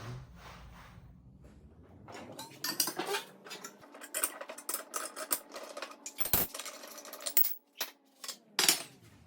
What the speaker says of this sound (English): So I can use this breaker bar to see if I can get this thing out.